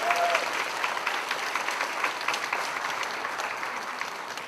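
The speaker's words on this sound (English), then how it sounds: "Let's give them one more round of applause." An audience at an elementary school dedication in Dallas applauds a school choir, a steady wash of many hands clapping that tapers off slightly toward the end.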